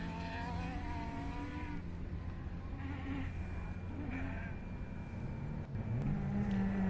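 Off-road race car in the S&S race frame driven by Rich Andrews, heard from a distance as a steady engine drone that rises slightly near the end, with no voices over it.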